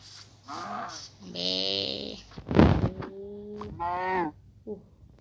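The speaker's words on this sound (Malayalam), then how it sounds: "പശു പശു പശു പശു പശു" A few cow moos from Minecraft, short nasal lowing calls with brief gaps between them, fairly close and clear.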